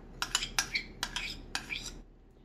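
Spoon stirring a rice, milk, yogurt, salt and sugar mixture in a bowl, a quick run of bright metallic clinks and scrapes in short bursts, close and clear, then quiet.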